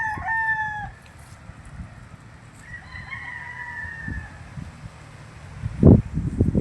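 A street breed gamefowl rooster crows nearby on a gamefowl farm, its long rising call coming first, then a second crow further off, followed by rustling and sharp thumps at the end.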